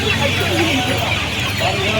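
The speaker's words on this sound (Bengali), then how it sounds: "দেখুন সোনালি মুরগি আছে" Sonali chickens cluck at a busy hen market in Uluberia, a steady close din of fowl with voices blending into the crowded background.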